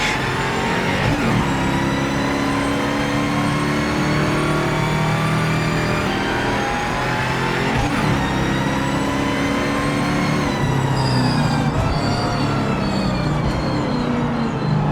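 Car engine in the Project Motor Racing video game revs steadily through a 15-second run, loud and continuous with rising and falling pitch as gears change, a retro GT on track with no talk over it.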